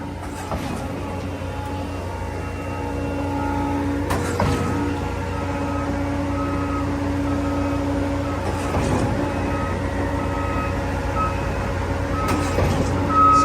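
A concrete mixer truck idles and rumbles at a concrete pumping site, a steady low engine drone with a few scattered clunks and metallic knocks.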